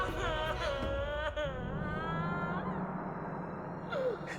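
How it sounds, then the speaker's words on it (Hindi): Someone crying in a Hindi horror drama, a high wavering wail that bends and slides in pitch before trailing off, with a short whimpering rise near the end, over a low rumbling background. "ये किसकी रोने की आवाज है?"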